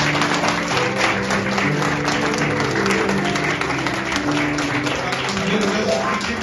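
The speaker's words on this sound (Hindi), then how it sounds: "फर्स्ट वाले के लिए तो वैसे बिना देखे ताली बजा देते हैं" Church audience at a Bible quiz in Jaipur breaks into steady applause, a dense continuous clatter of many hands filling the room with voices mixed in underneath.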